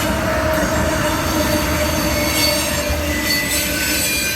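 A passing train fills the air with loud, continuous wheel squeal over a steady rumbling roar, close by and with no voices.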